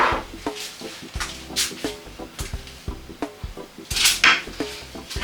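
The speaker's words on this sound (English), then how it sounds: "we need to get a big spoon, mix it around." Big wooden spoon stirring cinnamon into milk for pumpkin spice milk, heard as a steady run of close clinks and knocks against the pot or bowl, with a brighter rattle near the end and no talk.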